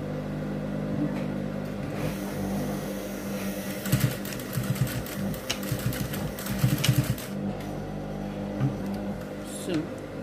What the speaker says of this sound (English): you're going to stitch it down.